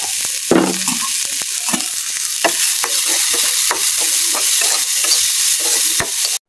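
Chopped onion, ginger and turmeric sizzle in a hot pan under repeated stirring, with bright crackling frying and sharp scraping clicks of the utensil throughout.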